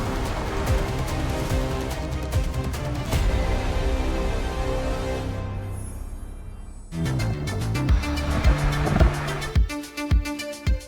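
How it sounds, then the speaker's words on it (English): 2025 Audi S3 with optional performance exhaust: a steady, full engine drone with a clear harmonic tone, which drops away, then returns with revving and deep, punchy pulses toward the end. "an optional performance exhaust system, which delivers an emotional and voluminous sound"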